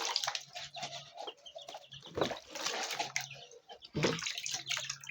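Water splashes and pours into a basin as it is washed and refilled for chicks, in irregular gushes and sloshes, with soft chick and chicken clucks and cheeps nearby in between.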